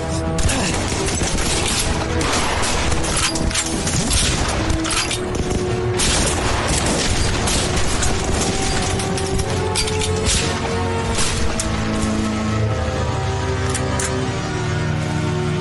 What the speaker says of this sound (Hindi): गोलियां चलाता रहा मेरे भाई